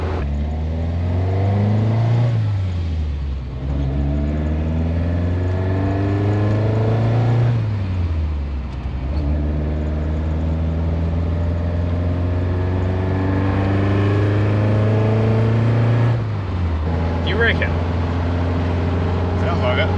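A Toyota KE70 Corolla engine is revved up and down in repeated sweeps, the pitch climbing and falling several times while people talk over it, with a light tappety rattle possible beneath the engine note.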